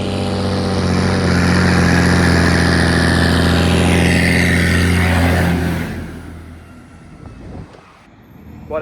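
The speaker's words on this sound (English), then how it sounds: "What else is to do on a wet day other than take the silencer off a tractor?" A tractor with its silencer removed runs loud and raw, with a steady throbbing engine roar that holds for several seconds, then drops away and fades toward near quiet at the end.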